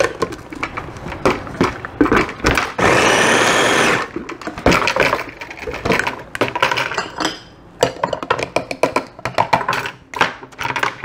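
Half a medium onion cut in quarters is chopped in a kitchen appliance, with a loud steady motor whir for about a second amid rattling, knocking and clattering before and after.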